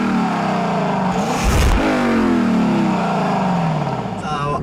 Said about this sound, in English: You cannot beat a gurgle and the grunt of a V8.